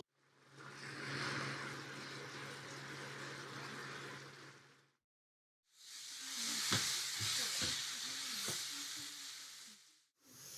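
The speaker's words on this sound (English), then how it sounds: "We sauteed the mushroom on high flame." Mushrooms sauté loudly on high flame in a hot pan, a steady frying hiss that cuts out briefly, then returns with scraping and stirring clunks.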